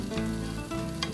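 Apple pancake frying in a non-stick pan, a steady close sizzle with a few soft scrapes as it is gently flipped.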